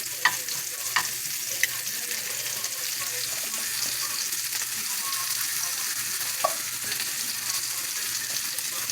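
Already-blanched asparagus spears warming and browning in a hot pan make a steady, close sizzle, with a few faint clicks of the pan or utensil and no talking.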